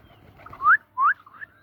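Pigeons of the Koka breed kept in a coop, two short rising calls and a softer third note close by, with no talk over them.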